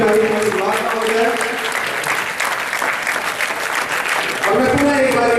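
An audience at a theatre festival claps in a loud, sustained round of applause, dense and continuous from start to finish, with voices heard over it.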